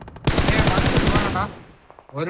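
Rapid automatic gunfire in a tactical shooter scrim match, a loud burst of repeated shots that fades out, followed by a brief softer sound at the end.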